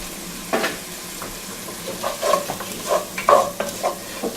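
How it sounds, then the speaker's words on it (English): A large onion sautéing in a pot for pork jambalaya gives a soft, steady sizzle, broken by scattered scraping and clacking stirring strokes that grow busier toward the end. "Now this is the large onion. Put that in there and get that sauteed down."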